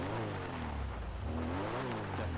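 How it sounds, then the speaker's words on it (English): Engine of a vehicle in the game FiveM starting and running, a full steady motor rumble with a wavering pitch, continuous and close, with no talking. "We're going to start the engine."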